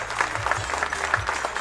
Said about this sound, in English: Nice round of applause for Wayne Joe, please.